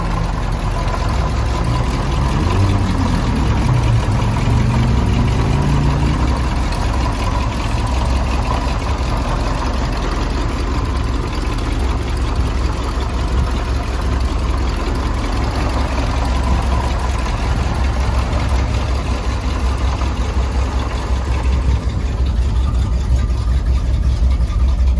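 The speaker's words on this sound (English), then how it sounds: "So let's go ahead and crank her up and take it for a spin." A 1976 Ford F-150 pickup's engine runs at a steady idle throughout, a continuous low rumble with a faint high whine on top, close and fairly loud, with no talking.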